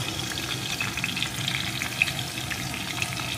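Spicy vegetable filling seasoned with salt and turmeric, stirred in a frying pan for savoury patishapta: a steady close sizzle and fry with soft scraping stir noises throughout, no talking.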